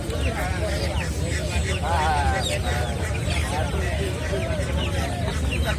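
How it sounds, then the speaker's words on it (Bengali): Many chickens and roosters, mostly roosters, clucking and calling at close range at a village livestock market, mixed with people talking in a busy crowded setting. "এখানে মোরগের সংখ্যা বেশি মুরগির সংখ্যা কম"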